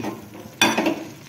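A spoon stirs a pan of walachi bhaji, a vegetable curry with a little gravy, giving a sudden scraping clatter followed by a soft sizzle after a quiet moment.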